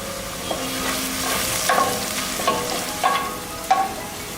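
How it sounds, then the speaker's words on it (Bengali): Onions fry with salt in a pan, a steady broadband sizzle with occasional scraping stir strokes spaced about every half second to second, close and moderately loud with no talking. "পেঁয়াজ ভাজার সময় যদি আপনারা লবণটা দিয়ে দেন তাহলে পেঁয়াজটা তাড়াতাড়ি ভাজা হবে"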